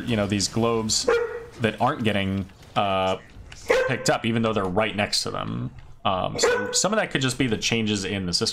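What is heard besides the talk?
dog barking in the background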